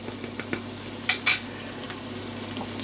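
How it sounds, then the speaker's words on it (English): Ginger garlic paste with salt, chilli powder, turmeric and coriander powder frying in a pan, a faint steady sizzle with a couple of sharp utensil clinks against the pan. "we're just going to fry that until we get rid of the rawness of the ginger and garlic"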